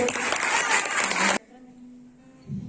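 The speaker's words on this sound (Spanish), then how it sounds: "Un forte aplauso, por favor." A burst of audience applause, dense and fairly loud, cuts off abruptly, leaving a quiet hum before a faint sound returns.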